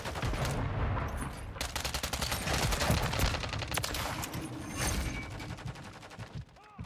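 Rapid bursts of Striker shotgun fire in Modern Warfare 3 multiplayer, loud repeated blasts in quick succession with mechanical clatter, close and dominant with little talk.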